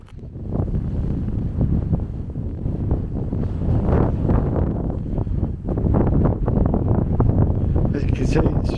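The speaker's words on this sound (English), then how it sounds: "It's very windy, probably too windy to hear me." Strong, gusty wind roars across open moorland on Ilkley Moor and buffets the microphone continuously and loudly, with a voice partly buried beneath it.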